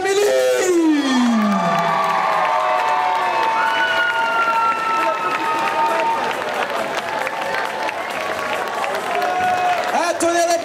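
An audience at a costume contest cheers, shouts and whistles, a loud crowd roar with an amplified announcer's voice talking over it.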